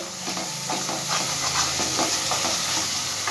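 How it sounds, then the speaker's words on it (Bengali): Spice paste for a rui fish jhol with jhinge and potato fries in oil, a loud close hiss and crackle with a rhythmic scrape of a spatula stirring through it. "সবগুলো খুব ভালো করে মশলা আমি ভেজে নেবো যতক্ষণ না তেল ছাড়ছে মশলাটার থেকে"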